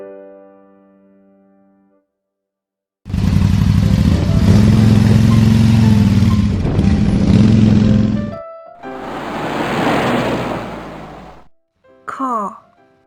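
A motorcycle engine runs loudly for about five seconds with a low, steady throb, then a rougher, noisier engine passage follows. Brief speech comes before and after.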